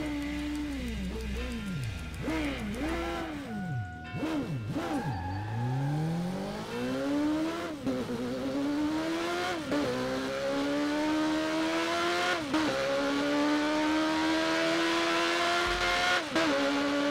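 Vehicles racing in Burnout Paradise, with engines revving hard and rising through gear changes, pitch swooping up and down, loud and continuous with brief bursts of tire noise.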